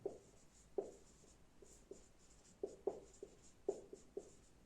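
A pen or chalk writes out notes during a general-studies lesson in a short series of faint, scratchy strokes and taps, spaced irregularly, in a quiet room with no voices.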